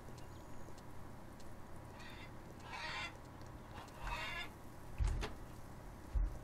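A chicken in the farming video game Farmers Dynasty lets out several faint, honking squawks that come in separate bursts over a low background ambience, followed by a couple of soft thuds near the end.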